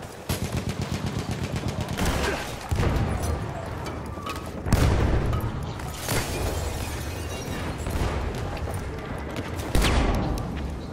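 Bursts of gunfire from the World War I shooter Battlefield 1, aimed at the player: rapid machine-gun rattles and heavy single shots repeat throughout, close and loud, with several sharp impacts standing out.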